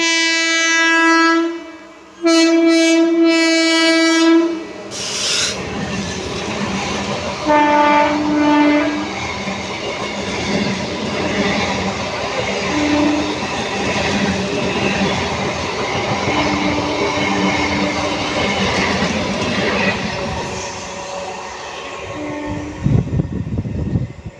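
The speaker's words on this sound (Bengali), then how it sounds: "আপে একটা ট্রেন বেরোলো যে ট্রেনটা দাঁড়ালো না" At night, a train passes straight through a busy Sealdah station without stopping, its loud horn blaring at the start, followed by a sustained rumble and clatter of wheels over the rails that fills the platform.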